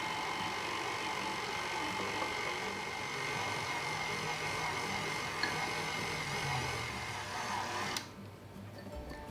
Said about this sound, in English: I'll add 3 cups of granulated sugar. Slowly mix that in.